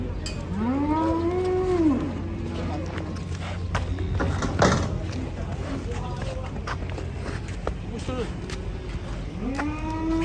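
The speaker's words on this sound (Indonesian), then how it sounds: "sapi masuk" Two drawn-out moos from large cattle being loaded onto a truck, one at the start and one near the end, rise above steady crowd chatter and outdoor commotion.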